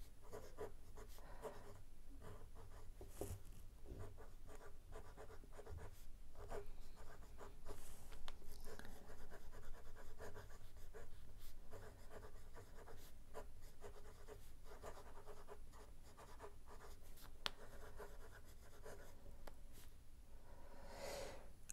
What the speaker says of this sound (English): Let's write something if the pen writes the quick.